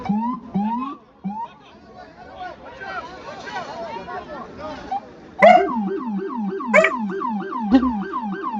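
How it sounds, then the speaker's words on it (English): A dog barks repeatedly at a moving birthday balloon indoors, loud close yaps coming in a rapid run in the second half, after a stretch of excited voices and background noise. "He's barking at my balloon."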